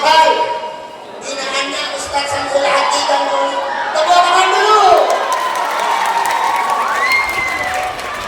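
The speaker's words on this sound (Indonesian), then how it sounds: "tepuk tangan dulu" Crowd of students and families at a madrasah Maulid Nabi celebration cheering and clapping loudly, with shouts and children's voices mixed into a sustained, busy roar that swells midway.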